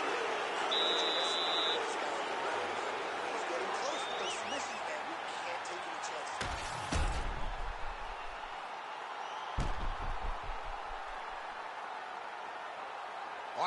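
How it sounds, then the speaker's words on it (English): A buzzer horn sounds to end a wrestling round during a broadcast, two short loud blasts a few seconds apart over steady crowd noise and commentator talk. "there's the horn at the end of the round"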